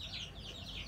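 An aseel rooster gives a faint, brief series of low clucks in a farm setting, close but quiet against a steady background hum.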